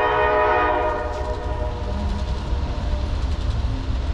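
A CSX or NS freight train rolls slowly past a New Jersey trackside spot, a loud, close, steady locomotive rumble and chug with rail noise throughout and no talk.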